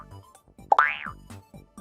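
A short springy boing from Super Mario Maker 1, played when pressing up while wearing a costume, rising in pitch once, with small plopping game noises around it.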